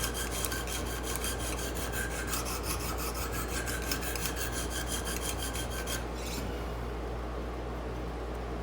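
Close, steady rasping strokes of a file or sharpener working a burr off a knife edge, repeated back and forth with an even rhythm, then fading to a softer rub near the end, with no talk.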